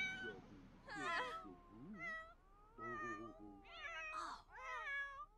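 Cats in The Sims 4 video game meow repeatedly, a series of clear, drawn-out calls and a few whiny caterwauls, close and alone with no talking.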